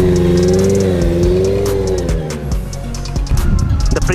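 A Honda CBR650 motorcycle engine starting for the first time and revving, a loud close engine note rising and falling through several blips with no talking over it.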